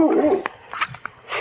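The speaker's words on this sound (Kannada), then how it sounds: "ನೋಡಿ ನಾಯಿ." A dog whimpers and gives short yips in brief bursts, close by, with people talking around it.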